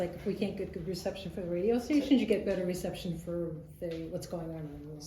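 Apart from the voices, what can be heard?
No everyday noise stands out behind the speech.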